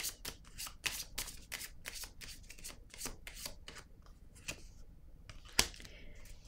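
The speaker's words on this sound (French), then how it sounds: "Je vais déposer une carte." Tarot cards being shuffled and laid down, a steady run of quick papery riffles and slides close up, with one sharper snap near the end and no talking.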